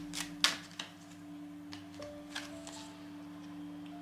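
Tarot cards shuffled and drawn by hand in a few brisk riffles and soft flicks near the start, then quiet card placement over a low steady hum.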